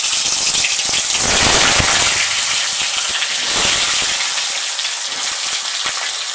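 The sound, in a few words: potatoes frying in mustard oil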